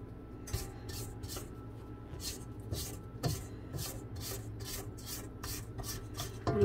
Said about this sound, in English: Now I'm going to go ahead and scrape my bowl